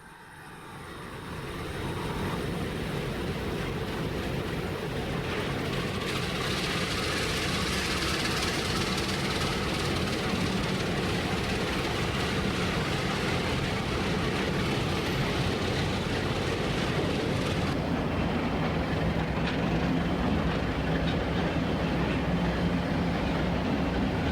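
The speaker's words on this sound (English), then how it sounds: "The next train we will be taking a look at is A&M's Van Buren Local, FSSW3." Arkansas & Missouri local freight led by an Alco T6 locomotive rumbling past, a loud steady roar of diesel engine and rolling railcars that builds in the first seconds and holds continuously to the end.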